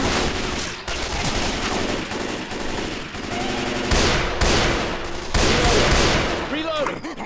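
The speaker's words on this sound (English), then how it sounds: "Savannah, you just gunned him down like an animal" Rapid gunfire from Left 4 Dead 2, bursts of automatic weapons and shots running continuously and loudly throughout, with players talking over the shooting.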